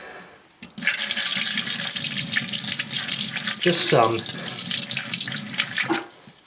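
Liquid pours steadily in a continuous splashing rush, like water running into a drain, with a brief gurgle midway and a few quiet spoken words.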